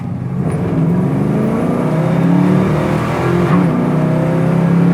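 A 1968 Chevrolet Camaro pulls hard through second gear, its engine roaring loud and close in a steady, rising drone that holds for the whole stretch.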